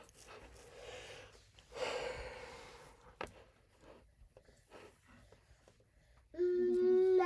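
A person yawning in a quiet room: a long, breathy drawn-out exhale rises and fades, followed by faint rustles and a louder tonal sound near the end.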